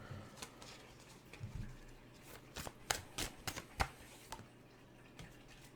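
Tarot cards are shuffled and riffled in a quiet room, producing a series of soft, close flicks and taps in irregular clusters with no talking.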